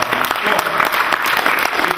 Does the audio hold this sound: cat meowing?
no